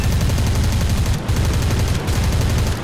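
Hurricane Mk IIB wing guns firing in War Thunder, a loud, continuous rapid-fire rattle of machine-gun bursts with two brief pauses between volleys.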